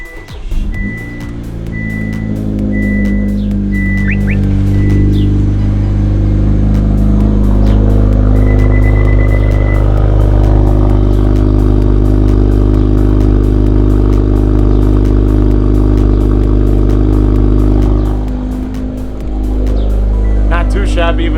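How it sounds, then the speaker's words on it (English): A car cold-starts with a crank and catch, then its exhaust revs up and holds a loud, rumbling idle before dipping briefly and rising again, with a couple of short chirps early on. "we're going to start the car off with a cold start"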